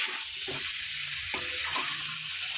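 Cauliflower and potato curry frying in a pan over medium flame gives a steady close sizzle, with a few soft scraping stirs of a spatula and no voices.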